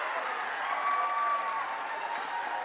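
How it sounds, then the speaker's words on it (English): A large crowd at a high school boys basketball game for Hoosac Valley applauds and cheers in a steady, dense wash of clapping that carries on throughout. "huge crowd here for Hoosac Valley"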